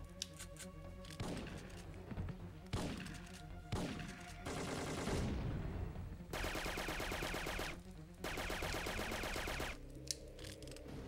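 Enemy gunfire in the Syphon Filter 3 video game, bursts of rapid shots and mechanical clatter in repeated volleys, faint and distant in the mix, with no talking.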